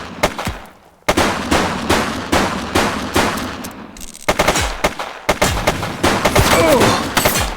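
Rapid automatic gunfire from the police video game The Precinct rattles in loud, repeated bursts, broken by short gaps and ending in a dense, sustained volley.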